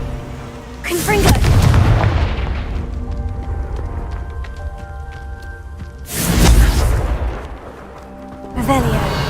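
Confringo fire spell blasts from Hogwarts Legacy, video game combat: two loud booming bursts with whooshing tails about five seconds apart, the second cut short, over a steady game score and ambience.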